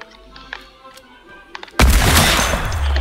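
A video game sniper rifle fires a single loud, sharp shot near the end, preceded by quiet clicks and faint handling sounds, with a dense roaring tail after the blast.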